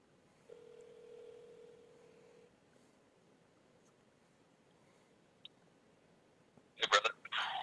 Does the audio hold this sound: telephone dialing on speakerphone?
yes